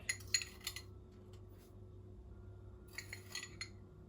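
Plates, cups and cutlery are gathered for a picnic, giving light clinks and metallic rattles in two short clusters with a quiet pause between, close by over a faint steady hum.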